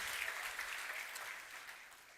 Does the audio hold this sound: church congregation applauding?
yes